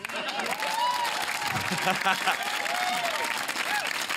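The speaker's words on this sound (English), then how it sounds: "Give yourselves a massive round of applause" A television studio audience claps and cheers loudly for several seconds, with voices and tonal shouts rising through the dense applause.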